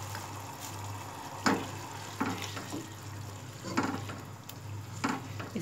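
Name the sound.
stirring spices into frying beef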